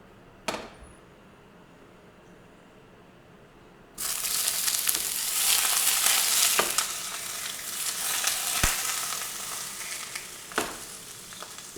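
Bacon-wrapped fillet frying in a hot pan, a loud sustained sizzle that starts abruptly after a quiet stretch and continues with occasional clicks and scrapes.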